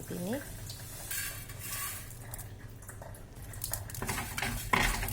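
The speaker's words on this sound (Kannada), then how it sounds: "ನೆಕ್ಸ್ಟ್ ನಾನು ಎಲ್ಲ ಮಸಾಲೆಯನ್ನು ಸೇರಿಸಿ ಒಟ್ಟಿಗೆ ಫ್ರೈ ಮಾಡ್ತಾ" Spices frying together in a pan for temple-style pumpkin sambar, with metal utensil clatter and scraping against the pan over a low background; sizzling is faint and a brief voice-like sound comes near the start.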